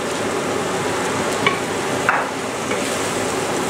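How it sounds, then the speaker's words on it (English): Rabbit pieces with spices, green masala and cider vinegar frying in a pan, a loud continuous sizzle with occasional stirring clatter, close and without talk. "And I'm going to fry that around for a minute just to get the spices coating everything."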